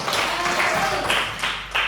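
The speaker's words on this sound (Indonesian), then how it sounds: "Okay, give applause." A classroom audience claps briefly after a group presentation, a short burst of scattered, moderately loud applause lasting under two seconds.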